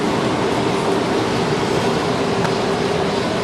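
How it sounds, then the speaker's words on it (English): Inside a moving passenger train carriage in China, a loud, steady rumble and rushing hum fill the space with no clear voices. "I'm sort of on this train"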